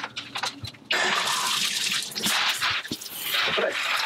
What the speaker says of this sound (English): I'm now in the bathroom shower where I will be simulating a rainstorm to test the abilities of this umbrella to keep me dry.